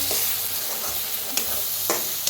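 Grated coconut mixture roasting in a pan for a village-style chicken masala, giving a steady dry sizzle with a few sharp spatula scrapes and stirs.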